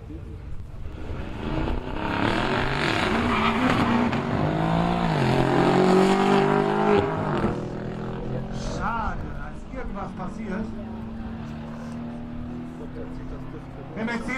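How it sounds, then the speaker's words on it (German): A Mercedes E63S AMG and a BMW M5 launching in a quarter-mile drag race at Brilon, engines roaring and revving hard with rising pitch then fading away, under loud announcer talk. "Mercedes E63S AMG gegen BMW M5."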